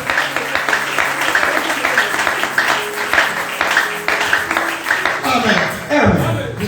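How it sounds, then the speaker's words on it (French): A church congregation applauds and cheers in acclaim of Jesus, steady clapping filling the room with a loud continuous crowd roar, and voices rising over it near the end. "Est-ce qu'on peut encore acclamer Jésus?"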